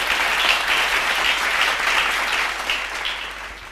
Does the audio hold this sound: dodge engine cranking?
no